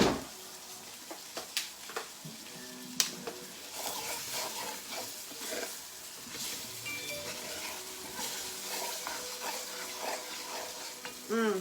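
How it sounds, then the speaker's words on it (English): Roux for chicken stew is stirred steadily in a pot over a lowered flame. The spoon scrapes and swishes continuously over a constant sizzle, and there is no talking. "You still got to keep kind of stirring it so your roux doesn't burn."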